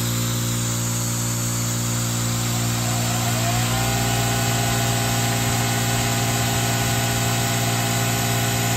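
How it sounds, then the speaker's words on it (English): A blue angle grinder runs from a Zendure SuperBase V power station, its steady motor hum joining an ongoing drone partway through and continuing loud and unbroken to the end. "Turn on the blue grinder."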